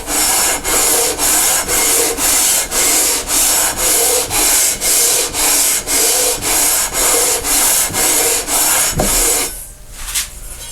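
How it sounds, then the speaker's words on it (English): Rhythmic back-and-forth sanding strokes on a wooden guitar fretboard being trued flat and straight, about seventeen even, loud passes in steady rhythm, stopping near the end with a brief knock. "So I'm going to sand this flat and straight."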